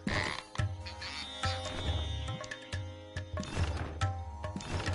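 Frogs croaking in the video game Tails of Iron, repeated low guttural croaks in an irregular rhythm, close and fairly loud, layered over an ambient forest game soundtrack.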